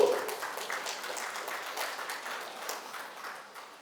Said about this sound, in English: A round of applause for Mr. Wade, represented by Ms.